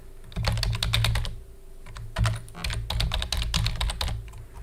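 A password is typed on a computer keyboard, heard as close, rapid bursts of clicking keystrokes in uneven runs with brief pauses, alone and without talking.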